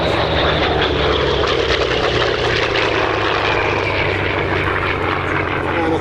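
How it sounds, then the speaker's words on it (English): A Grumman F8F Bearcat piston fighter roars past nearby at an airshow, its engine drone loud and continuous with a slowly shifting pitch as it flies by. "I think that was probably Pete's goodbye flyby."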